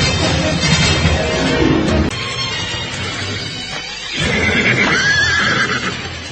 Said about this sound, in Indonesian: 4 ekor kuda itu semakin dekat